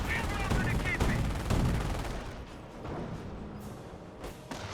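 Machine guns fire in Company of Heroes 1, Panzer Elite against US forces, in rapid rattling bursts over dense battle noise with distant shots and thuds.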